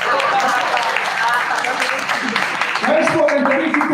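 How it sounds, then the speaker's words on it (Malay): An audience at a Malay political rally applauds in a dense, continuous patter of clapping with loud crowd noise and voices mixed in. "Tak tepuk tangan tak."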